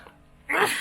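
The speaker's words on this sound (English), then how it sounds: "got something sneezing in here, something's gone right up my nose" A man sneezes once while exploring a leaf-filled WW2 structure by the Helford River in Cornwall; a quiet lead-in gives way to a loud, sudden, breathy burst close to the microphone that tails off.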